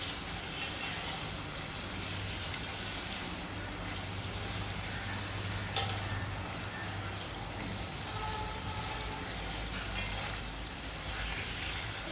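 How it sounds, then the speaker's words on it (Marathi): Paneer cubes fry in a hot pan until golden brown, giving a steady, even sizzle throughout with a few faint clinks of a utensil. "याला छान गोल्डन ब्राऊन होईपर्यंत आपण फ्राय करूयात"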